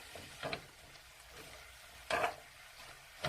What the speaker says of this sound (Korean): 새우젓이 골고루 가지게 이렇게 하고 이렇게 볶아주세요